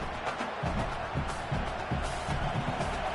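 A stadium crowd cheers in the College Football video game during an LSU vs Clemson game, a dense, steady roar with rhythmic swells, heard under ongoing background noise.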